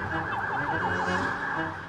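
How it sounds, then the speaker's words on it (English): Sirens wail on a busy downtown street in Lima, Peru, their rising and falling tones repeating quickly above a dense bed of traffic and city noise. "Sirens."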